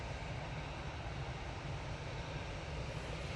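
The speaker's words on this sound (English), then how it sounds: "Aer Lingus finally coming on in front of us." Aer Lingus airliner approaching at Manchester Airport, a steady distant jet engine roar that holds even and faint throughout with no change in pitch or loudness.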